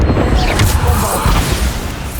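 Bombarda blast spell from Hogwarts Legacy, fired during a wizard duel trial: a loud, close boom with a crunching impact that thuds and rolls off over about two seconds.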